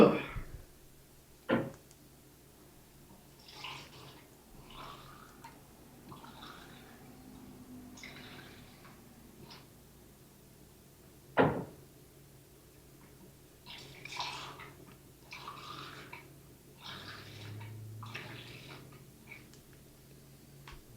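Water running or being poured from a tap, faint and intermittent splashing and trickling bursts with a couple of sharp knocks, in a quiet room with light background noise.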